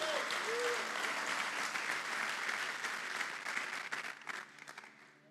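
A church congregation applauds during a sermon, with full, sustained clapping from the whole room that thins out and fades away near the end.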